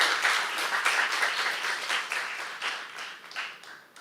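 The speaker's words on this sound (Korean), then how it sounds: "박수 좀 쳐봐." A church congregation at a Saturday worship service breaks into applause, a fairly soft, steady patter of many hands clapping that swells and fades over about four seconds.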